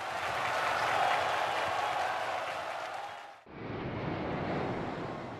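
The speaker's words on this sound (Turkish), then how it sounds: "Tiananmen Meydanı'nı dolduran coşkulu kalabalık Xi'nin konuşmasına tezahüratlarla eşlik etti." A large, enthusiastic crowd fills Tiananmen Square and cheers during Xi's centenary speech, a broad, steady roar from afar that cuts off abruptly and resumes.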